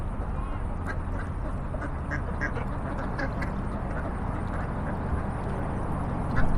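Scattered duck quacks over a constant low outdoor rumble, several birds calling faintly at a distance, on the river in downtown Branson, Missouri.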